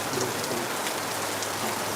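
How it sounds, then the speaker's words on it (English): Heavy rain pours down in Lagos, a dense, steady hiss of drops drumming on surfaces, loud and continuous without pause. "It's raining, man. It's raining heavy."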